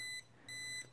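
A non-contact voltage detector held near a live wire while testing Christmas lights gives two bright, piercing electronic beeps, each sustained for about a third of a second, alone over a faint hum.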